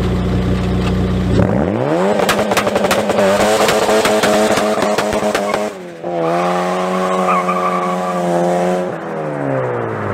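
Turbocharged Honda H23 engine holding a steady two-step launch-control rev, loud and close, with a sharp rise near the start, a brief dip midway, then a sustained buzzing drone with crackling pops.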